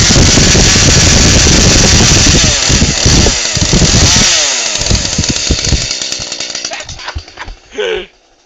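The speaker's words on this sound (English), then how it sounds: "There's your chainsaw" A chainsaw runs loud and close in a steady, rough, high-revving roar, then winds down and cuts off in the last second or so.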